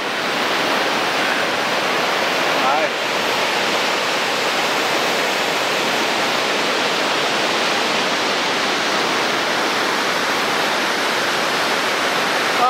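Trollfoss waterfall in Norway roars steadily and loud, a dense unbroken rush of falling water heard up close for the whole stretch.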